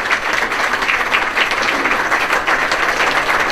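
Sustained audience applause fills a Devon County Football Association community awards ceremony, dense, steady clapping from a crowd throughout without pause or speech.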